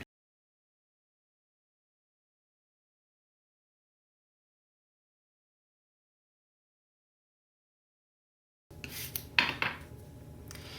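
Long silence, then near the end a cluster of glassy clinks and clatter as small India ink bottles knock together close by.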